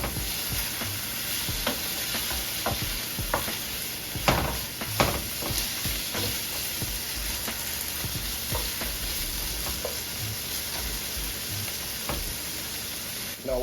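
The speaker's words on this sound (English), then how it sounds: "So you want to saute these off real quick." Vegetables with fresh thyme sauté in a pan, a steady close sizzle broken by irregular scrapes and taps of the stirring utensil.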